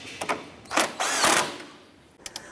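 A power tool snugs down a nut on the driver-side strut and spring assembly of a 2008-2012 Honda Accord, with a couple of short whirring bursts, a longer run, then brief clicks.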